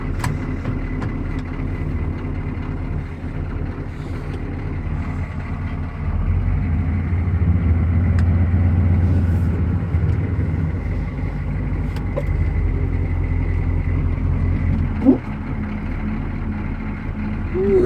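A 6.2L GM Detroit diesel in a truck idles after a cold start, a steady low rumble that swells louder partway through and holds close to the microphone, with no talk over it.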